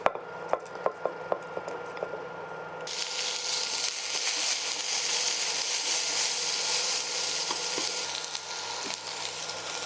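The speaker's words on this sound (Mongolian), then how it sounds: "мах ногоогоо бүгднийг хуурж эхэлнэ" Meat and vegetables for japchae sizzle in a pan, opening with a few sharp stirring clacks before a loud, steady frying hiss swells and holds, with occasional utensil scrapes and no talking.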